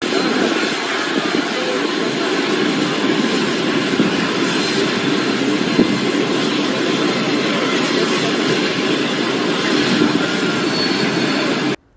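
A plane's jet engine roars loud and steady at close range as passengers get off, then cuts off abruptly at the very end.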